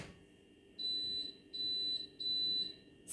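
An air fryer being set for meatballs gives three long, evenly spaced, high electronic beeps, each about half a second, clear and close against a quiet kitchen hum.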